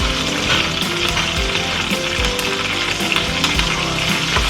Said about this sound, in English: Now you've got to cook the tomatoes until the tomatoes lose their shape and it becomes a paste